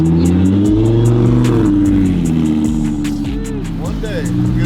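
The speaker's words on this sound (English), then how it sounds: "look at that R8" An Audi R8 sports car engine rumbles and revs loudly and close by, with a steady low drone that rises and falls, while people talk over it.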